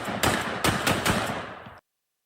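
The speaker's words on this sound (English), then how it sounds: "Here's how you shoot a fucking 50 cal." A .50 caliber rifle fires several heavy, booming shots in quick succession, each blast loud and close with a long ringing tail, the rapid reports running together before cutting off abruptly.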